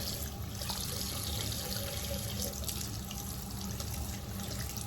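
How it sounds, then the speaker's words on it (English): Tap water runs steadily into a sink over a makeup brush being rinsed after cleaning with tea tree soap, a close, even hiss of flowing water with faint splashing and no talk. "I just kind of run it under a little bit of water to get that excess"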